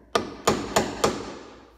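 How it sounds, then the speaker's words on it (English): A metal center punch is struck into the fiberglass hull of a Yamaha EX jet ski before drilling, giving four sharp, evenly spaced taps with short ringing tails, close and alone. "I'm using a center punch in the center of the hull"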